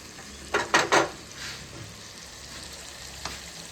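Mutton added to fried onions in a pot sizzles and hisses, with a few sharp bursts of stirring and scraping close by, then a quieter steady frying.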